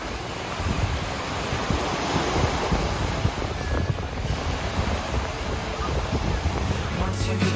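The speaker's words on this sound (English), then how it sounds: "the waves at this beach can be really high" Waves breaking at a beach in Ontario, a steady, broad roar of surf mixed with wind buffeting the microphone, continuous and fairly close with no talk.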